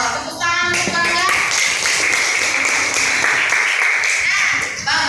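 Applause in a school classroom, children clapping together in a loud, close, steady rattle with a few voices mixed in, lasting about five seconds.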